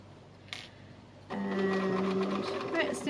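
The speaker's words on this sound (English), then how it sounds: "I'm just adjusting the stitch length on my machine" Sewing machine stitching 3 mm thick felt, a steady whirring hum with mechanical needle chatter starting after a quiet moment and running to the end, close and moderately loud.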